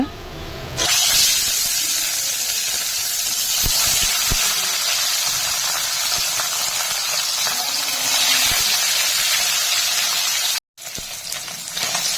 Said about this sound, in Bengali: মাছে লবণ হলুদ মাখিয়ে নিয়েছি মাছ ভেজে নেব